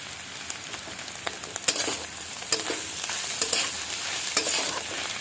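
A spatula stirs Maggi noodle masala with turmeric in a frying pan for egg masala Maggi, giving quick scraping clicks over a soft, continuous sizzle.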